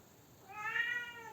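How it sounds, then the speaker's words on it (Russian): A cat meows once while climbing down, a short rising and falling cry, fairly faint and distant against quiet outdoor background. "Жив твой кот, вон спускается уже."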